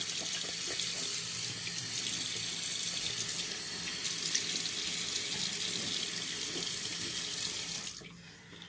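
Tap water runs steadily into a bathroom sink for a face rinse after a shave, a constant close splashing rush that cuts off near the end.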